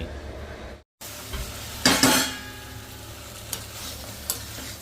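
A spoon stirs mutton curry (kosha) in a pan over a steady sizzle of frying oil, with a few scraping strokes and light clinks against the metal, close and alone.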